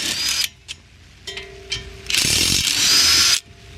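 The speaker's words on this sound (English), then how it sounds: "Power tools." A power tool, likely an impact wrench or ratchet, whirs in a few bursts during brake work on a 2021 Toyota Corolla, with short loud runs separated by pauses and mechanical clicks, close and without talk.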